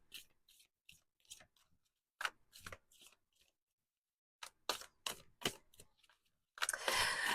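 Tarot cards shuffled close up in a quiet room: a series of short, crisp riffling flicks with pauses between them, ending in a longer, denser riffle.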